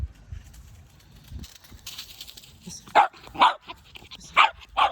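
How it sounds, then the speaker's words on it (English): An Australian Shepherd barks in a series of four sharp, loud barks in a rough rhythm near the end, preceded by softer murmuring voices and indoor rustling. "we're just gonna repeat that bark"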